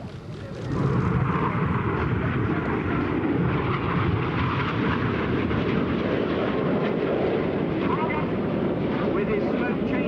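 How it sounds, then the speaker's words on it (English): RAF Red Arrows jets at the 2015 Sanicole Air Show, five aircraft fanning out in formation, produce a loud, steady, continuous roar that rises just after the start and holds for the whole stretch. "The 5 aircraft of Enid fan out at the front."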